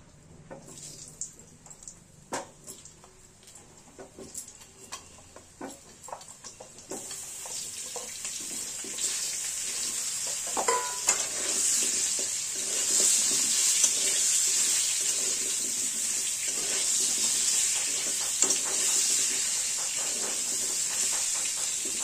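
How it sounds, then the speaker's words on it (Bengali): Potatoes dropped into hot oil tempered with bay leaf and garam masala: sparse clicks and light crackle at first, then a loud sustained sizzle that swells and holds steady, no talking. "এবার আমরা আলুগুলো ছেড়ে দেবো।"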